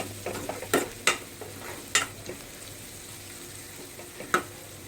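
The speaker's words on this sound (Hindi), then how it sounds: "और इसको मिक्स कर लेते हैं।" Light-brown fried onions are stirred with a pinch of turmeric in a pan, with several sharp spoon clinks and scrapes over a soft, low sizzle, close and fairly quiet.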